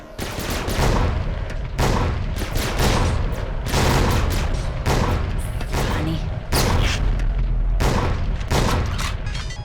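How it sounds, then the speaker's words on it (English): Rapid, loud volleys of shotgun fire in the video game Bedlam, with dense repeated blasts in several long bursts separated by brief pauses. "So the shotgun must be pretty good."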